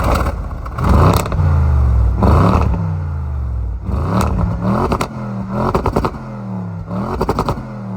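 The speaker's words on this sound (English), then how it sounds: "we may as well get a couple stock revs. This thing does have some pretty nasty pops for stock." A stock Audi S6 engine revs hard in repeated bursts, roughly six blips with the exhaust crackling and popping on each lift-off, loud and close with no talk.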